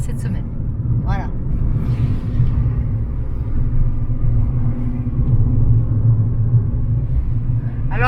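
Steady low rumble inside a small new car driving on a snowy day, a continuous engine and road drone throughout, with someone talking over it and a couple of brief high squeaks.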